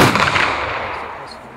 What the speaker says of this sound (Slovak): čestnej salve, pripraviť!